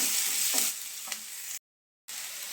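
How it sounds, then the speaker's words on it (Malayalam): Chopped onions and curry leaves sautéing in a pan for chicken cutlet, a steady close sizzle with a couple of soft stirring scrapes, cutting out briefly before resuming. "അരിഞ്ഞ് വെച്ചിരിക്കുന്ന സവോള ചേർക്കാം കറിവേപ്പിലയും ചേർത്ത് നല്ലോണം വഴറ്റി എടുത്തതിന് ശേഷമാണ്"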